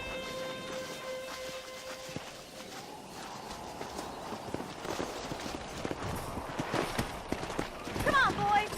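Horse hooves clip-clop in the Red Dead Redemption video game during a horse-wrangling ride, with faint, rhythmic hoofbeats building under a music cue and game characters talking.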